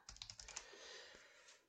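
Quick close clatter of keys on a computer keyboard as shell commands are typed, a short burst of keystrokes then a faint hiss, with no talking.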